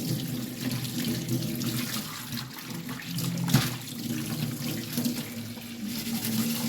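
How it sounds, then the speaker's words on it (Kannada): Water runs steadily from a tap while a clay pot is rinsed and rubbed beneath it, with a sharp knock partway through. "ಇದನ್ನೀಗ ಚೆನ್ನಾಗಿ ನೀರು ಹಾಕಿ ತೊಳೆದ್ರೆ ಆಯಿತು"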